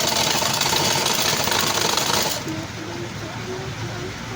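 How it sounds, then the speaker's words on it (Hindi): A sewing machine stitches the sleeve and side seam of a blouse, running fast and loud at first, then the motor eases off to a quieter, lower hum in the second half. "लेकिन उम्मीद करते हैं कि थोड़ा फास्ट करें ताकि आपको मैं इसका आस्तीन और इसका साइड की सिलाई भी दिखा पाऊँ।"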